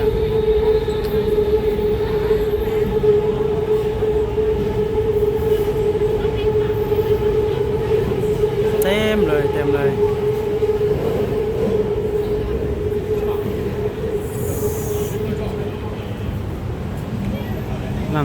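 A train rumbles steadily past at close range in Thailand, a continuous loud roar with a high tonal whine, and brief squeals partway through.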